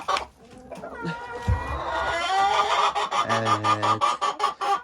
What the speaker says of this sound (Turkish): 11 tane tavuğumuz var.